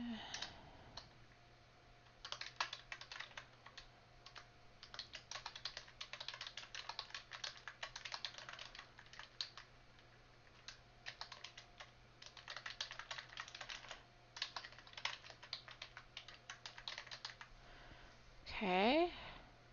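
Keys clatter on a computer keyboard in quick irregular bursts for most of the stretch, fairly close and moderately quiet over a steady low hum, with a brief rising tonal sound near the end.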